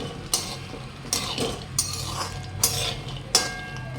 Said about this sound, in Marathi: आता त्याच्यात आपण काजू टाकून घेतले काजू भाजायला जास्त वेळ नाही लागेल